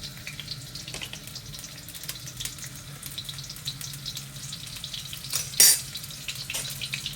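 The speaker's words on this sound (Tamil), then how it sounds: "இப்போ நம்ம காய்கறிலாம் போட்டு வதக்கிக்க போகிறோம்" Green chillies, carrot and beans sautéing in hot oil for multigrain noodles: a steady close sizzle with some scraping, and a brief louder clatter near the end.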